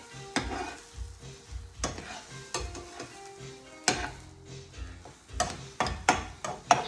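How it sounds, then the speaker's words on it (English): Scrambled eggs sizzle in a frying pan as a utensil pushes and pulls them, producing repeated close scraping strokes against the pan in an irregular rhythm. "So as the eggs are cooking, not burning, I'm going to push them again and pull them again."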